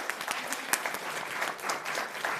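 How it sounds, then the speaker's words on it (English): Steady applause from a conference audience, a dense crackle of many hands clapping at once for a couple of seconds. "Warm applause for our presenters."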